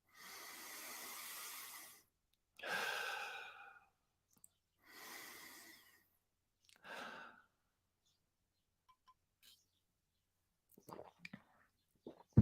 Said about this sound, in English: Deep breaths in, complete exhales